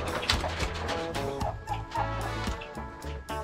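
Ranch chickens cluck steadily in a close, busy chorus of overlapping short calls, loud and continuous, with no talk over them.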